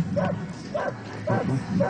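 At a Bulgarian specialty dog show demonstration, a dog gives four evenly spaced, loud barks close by, over a low background murmur.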